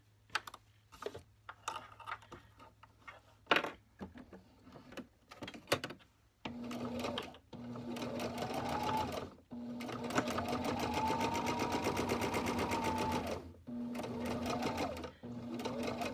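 Sewing machine stitching along the ironed edge of a lined fabric face mask with a pocket, running in several steady bursts separated by brief pauses, close and clear, with soft handling clicks in the gaps.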